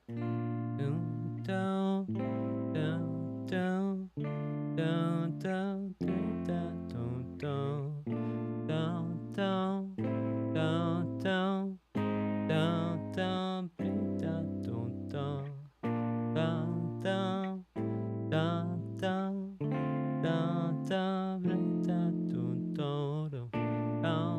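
A series of sustained, lush major seventh chords played one after another in a slow progression, clear and full, no voices.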